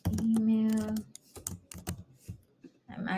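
Someone types an email on a computer keyboard in quick bursts of close, crisp key clicks separated by short pauses, with a brief tonal sound near the start.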